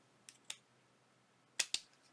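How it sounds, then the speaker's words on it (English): Scissors that are not very sharp snip through lace in four short, crisp cuts, two close together, a pause, then two more, near and clear against a quiet room. "We need to go ahead and cut this lace in half because it's just too big."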